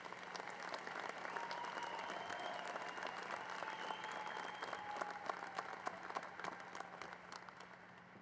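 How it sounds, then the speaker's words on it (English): Sustained applause from the crowd at a veterinary white coat ceremony at Iowa State's College of Veterinary Medicine, a steady, even wash of clapping heard from a moderate distance. "One more round of applause for the class of 2030."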